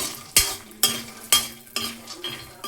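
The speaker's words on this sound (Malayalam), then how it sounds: "നമ്മൾ കപ്പലണ്ടി നല്ലതായിട്ട് വറക്കുന്നു എണ്ണയിൽ." Peanuts frying in hot oil are stirred in a pan for a spicy flattened-rice mixture. About five sharp scraping strokes repeat at a steady pace over a soft, continuous sizzle, close up, with no talking.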